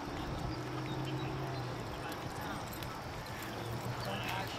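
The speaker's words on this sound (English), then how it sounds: "It's a good horse." Steady clip-clop of a racehorse's hooves on a hard surface during a breeze workout, with murmured voices in the background throughout.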